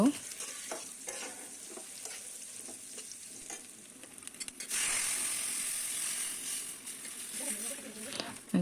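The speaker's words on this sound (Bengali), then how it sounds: "এদিকটা ডালটা বাগার দিয়ে নেব" Dal is tempered with a hot-oil tadka for khichuri: quiet stirring and clatter, then a loud, sudden hiss that settles into a sustained sizzle, with a voice faintly in the background.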